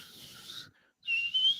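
A person whistles two short high tones near the microphone, the second a rising sustained note after a brief pause, with no talking.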